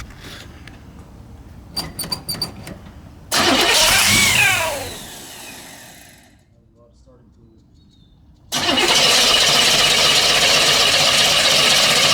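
A 1965 Chevrolet El Camino being revived after years abandoned. The engine cranks and catches with a loud roar, dies back to near silence, then starts again and holds a steady loud idle. Someone speaks briefly.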